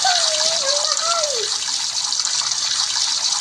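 A shower runs in a Brookhaven roleplay session in the Roblox video game, a steady loud hiss of falling water held throughout, with a brief sliding whistle-like tone near the start.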